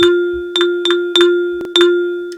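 A clear pitched electronic tone from a rhythm trainer repeats in short, evenly spaced eighth-note beats over a steady drone, a metronome-like rhythm pattern.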